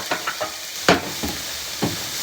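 Shrimp searing in a hot pan, heard as faint sizzling with a few sharp bursts of frying as the pan is stirred or the food shifts.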